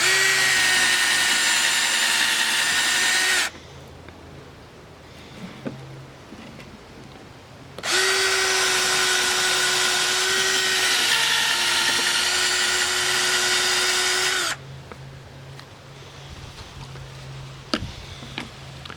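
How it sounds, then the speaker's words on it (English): A power drill bores holes in a tough old pine branch in two long bursts of steady high whine, each several seconds, separated by quiet pauses with small knocks and handling sounds. "Drilled our holes in this branch"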